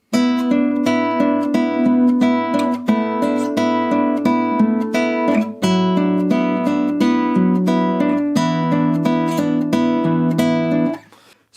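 Steady fingerpicked acoustic guitar playing a repeating section of a song, clear and close, with plucked notes in an even rhythm and a final ringing chord that fades out.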